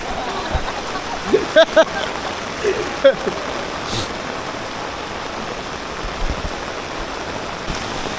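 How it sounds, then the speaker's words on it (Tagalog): Steady heavy rain from Typhoon Carina hisses and patters continuously, with a few louder thumps and splashes and faint voices in the background. "Tuloy-tuloy pa rin ang ulan."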